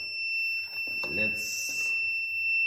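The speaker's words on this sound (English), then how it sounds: "When you pump more water, it shows that your tank is almost empty. The buzzer is triggered." A smart water dispenser's buzzer warns of an almost empty tank: a steady, high electronic tone sounds continuously throughout, with a voice talking over it.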